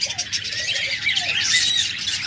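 Caged pet birds chirp and squawk together in a shop, with an albino pair among lovebirds, budgerigars and cockatiels, a busy cluster of high tweets close by.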